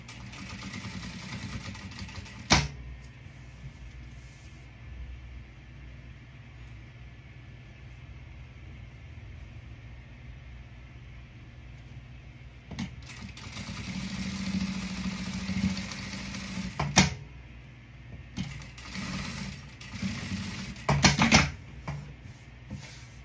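A sewing machine stitches a Christmas fabric dish towel, with short bursts of mechanical whirring and clatter separated by long stretches of quiet motor hum and pauses.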